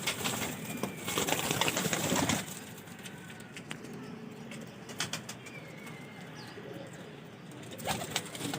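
Red-eyed breeder pigeons coo softly and repeatedly in a loft, with occasional wing flaps and light rustling; a louder burst of activity comes early, then calmer cooing continues.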